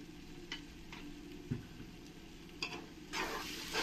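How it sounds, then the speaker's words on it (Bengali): Masala for chicken biryani being stirred in a pan, faint scraping and soft sizzling with a few light spoon knocks and taps, then a louder scrape near the end. "ভালো করে একবার নেড়ে দেবো।"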